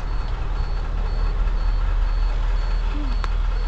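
Reversing beeps repeat evenly and sharply from a limo bus backing up among UPS trucks, sounding over a low, steady engine rumble with a short squeal near the end.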